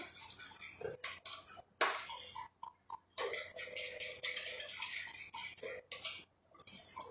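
Mint chutney stirred into a cheesy mint dip in a bowl, with a steady run of quick scraping clinks of a spoon against the dish, close and fairly loud, broken by a few short pauses.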